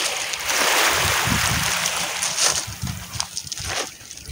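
Sea waves wash and splash close by in a broad rushing hiss that swells and fades, with scattered sloshing and faint background noise.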